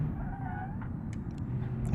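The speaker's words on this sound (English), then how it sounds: "those wheels are screeching" Tires on an older Mercedes squeal briefly in the driving game BeamNG.Drive at the Nürburgring, a thin, wavering whine over a low, steady engine drone.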